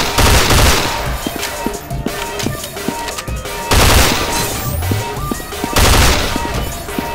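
Bursts of gunfire from the sci-fi shooter game CSS Sci-Fi, with loud volleys at the start, middle and end and scattered shots between them, close and dense.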